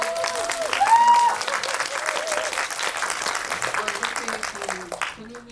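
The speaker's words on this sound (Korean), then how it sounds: "박수 한번 네." Audience at a film screening Q&A at the Busan International Film Festival claps in a sustained, full round of applause, with a voice speaking briefly over it as it gradually fades near the end.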